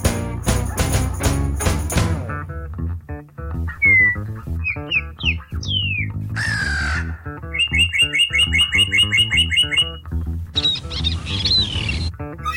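A series of varied bird calls follows one another: rapid chirps, whistled slides, trills and repeated tweets, loud and clear, some layered over steady rhythmic low tones, with no talking.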